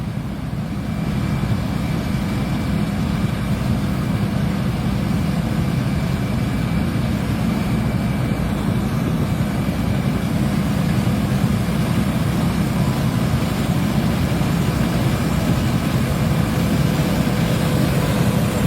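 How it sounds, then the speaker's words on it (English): A green John Deere combine harvester works through a rice field, its heavy engine giving a loud, steady low rumble that holds constant throughout without letting up. "Here comes Kelby on the John Deere, that lean green rice eating machine"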